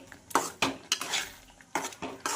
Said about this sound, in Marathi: आणि हे सारखं एकजीव करून हलवत राहायचं आहे